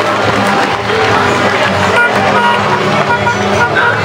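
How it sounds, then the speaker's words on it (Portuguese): Crowd cheering and applauding ox-cart drivers on a procession to Trindade, a loud, continuous wash of clapping, shouts and outdoor commotion filling the scene with voices mixed in. "Uma salva de ah! palmas, mais forte."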